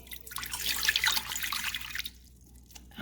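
Hot tap water pours into a mixing bowl for Halloween bread roll dough, a steady close splashing stream that fades out near the end.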